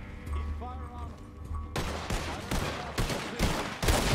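Rapid bursts of gunfire crackle through a foggy roleplay shootout in a video game, loud and dense in the second half after a quieter opening where a voice speaks.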